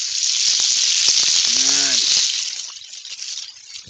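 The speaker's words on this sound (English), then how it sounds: "thing definitely frying. Y'all hear it?" Catfish frying in hot oil over an outdoor wood fire gives a loud, steady sizzle and crackle, close up, with a brief metallic tone partway through.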